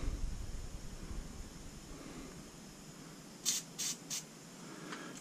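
A steady low hiss of white powder paint being sprayed onto heated swim jig heads, with a few short, sharper puffs near the end, close by and alone.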